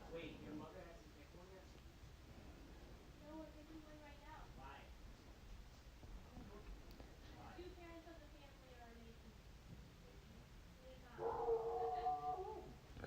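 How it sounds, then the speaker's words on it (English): A dog howls and whimpers faintly in the background, rising and falling in drawn-out wavering cries over a steady room hiss, ending with a louder burst near the end. "Sorry about my dumb dog in the background."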